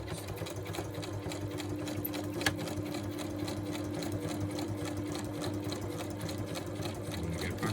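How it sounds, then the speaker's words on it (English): A sewing machine stitching backwards across a notebook cover, with a steady, fast mechanical whir and rapid needle rhythm running without pause, close and moderately loud. "I've never pushed the limits of going backwards on a sewing machine"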